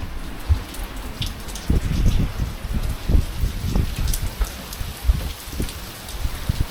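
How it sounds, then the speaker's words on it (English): Heavy rain pours steadily in an outdoor coastal campsite setting, a dense continuous hiss with irregular louder drops and splashes pattering on nearby surfaces, close and loud throughout with no voices. "can't get out of the rain, and all my buckets are full."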